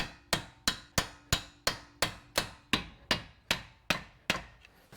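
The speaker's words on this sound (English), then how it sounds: "get a little hammer." A small hammer taps a CV axle through the front of a 2003-2006 Acura MDX during a left driver-side replacement, giving about a dozen sharp, evenly spaced metallic strikes at close range.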